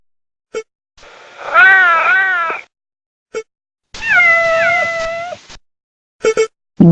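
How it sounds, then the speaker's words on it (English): A cat gives two drawn-out, wavering meows, close and clear, with short clicks and gaps around them and no talking. "cat,"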